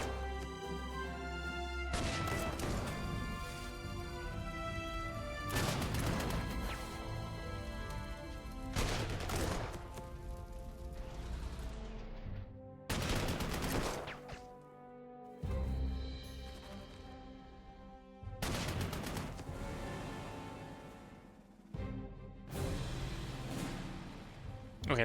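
Heavy artillery guns fire repeatedly in the Panzer Corps 2 war strategy game over Belgium, loud booming blasts several seconds apart against a continuous music and battle backdrop.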